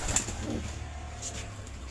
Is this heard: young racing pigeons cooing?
yes